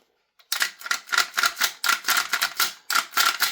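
Sharp rapid mechanical clicks and snaps ring out close and loud in a quick irregular rhythm as a Jaeger MCX rifle is reassembled and the rear pin is pushed in, with no voices.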